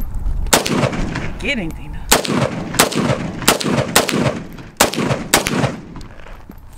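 Draco pistols fired outdoors, with loud, sharp shots ringing out one after another at an uneven pace, about eight in all, and a brief voice heard between shots.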